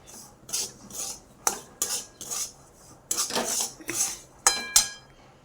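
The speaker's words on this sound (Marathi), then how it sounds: "असा हलवून घ्यायचा छान असा लाल कलर लाल कलर येईपर्यंत हलवत राहायचा" A spoon clinks and scrapes in a small bowl as saffron is stirred into warm milk, making quick, close, rhythmic metallic taps in short bursts with brief pauses between them.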